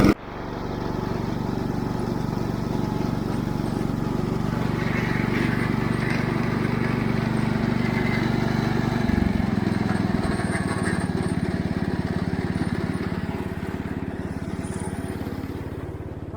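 Cub Cadet 149 lawn tractor engine running steadily and fairly loud throughout, a continuous low mechanical drone with a brief shift in tone about halfway, no talking over it.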